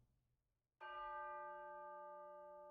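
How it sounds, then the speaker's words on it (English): A church bell strikes once after a quiet start, a loud, clear toll that rings on and slowly decays. "The bell strikes again."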